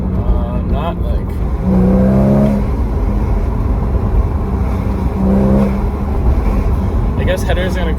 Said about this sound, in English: I can definitely hear the car now, because before I really couldn't.